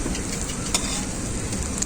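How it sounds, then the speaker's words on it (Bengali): An egg frying round in a pan, a steady dense sizzle and crackle throughout with a couple of small pops. "বাকি ডিমটা এরকম গোল ভাবে ভেজে নিচ্ছি।"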